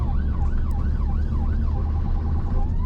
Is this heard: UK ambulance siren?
yes